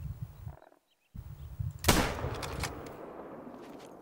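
A rifle shot rings out at a raccoon in theHunter: Call of the Wild, a sharp loud crack followed by a rolling outdoor echo that fades slowly, after a moment of near silence.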